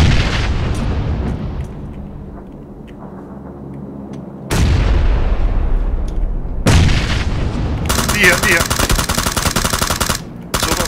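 Loud gunfire from the shooter game PUBG: single heavy shots ring out, then rapid automatic bursts rattle near the end, with brief booms between.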